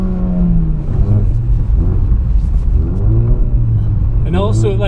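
A Ford Focus RS with all-wheel drive and a drift mode slides through snow, its engine revving up and down aggressively in rising and falling sweeps, loud and close, while people in the car talk over it.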